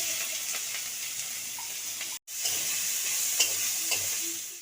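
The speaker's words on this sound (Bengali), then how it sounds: "এবার কালো জিরে আর শুকনো লঙ্কা ফোড়ন দিয়ে দিচ্ছি সামান্য একটু হলুদ দিলাম এবার পেঁয়াজ দিয়ে দিচ্ছি" Onion hits hot oil already tempered with black cumin, dried chilli and a little turmeric. It gives a strong, continuous close-up sizzle with light stirring scrapes and one brief cut in the sound.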